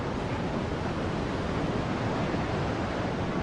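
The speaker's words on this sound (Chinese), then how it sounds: "潮水已经完全的漫上了老海棠" The tidal bore on the Qiantang River surges over the embankment at the Laoyancang dam corner as a loud, continuous roar of rushing water, unbroken throughout.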